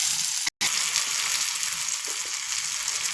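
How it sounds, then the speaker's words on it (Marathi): Tomatoes and onion frying in hot oil give a steady, dense sizzle that carries on evenly throughout, with one very brief dropout near the start. "आता आपण टोमॅटो टाकले, ते पण चांगलं परतून भाजून घेणार आहोत"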